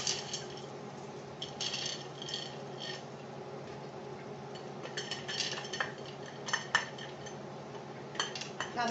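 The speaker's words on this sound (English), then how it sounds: "now we're going to add the 1 pound of chickpeas" A pound of chickpeas going into a cooking pot with white wine for Cuban-style pig's feet, heard as scattered clinks and metallic clatter of utensils against the pot over a soft background.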